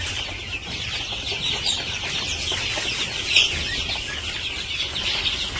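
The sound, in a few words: chickens clucking while fighting over feed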